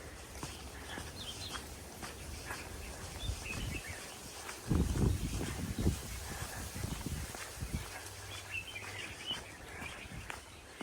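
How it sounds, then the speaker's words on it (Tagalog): Faint birdsong and scattered chirps outdoors on Soko Island near a grave site, with soft rustling and a brief louder low thump partway through. "Ang maririnig lang ay huni ng mga ibon."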